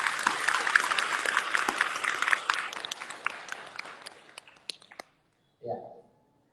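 An audience at an Islamic gathering during a communal fast-breaking event claps in dense, steady applause that thins out and stops, followed by a short burst of voice.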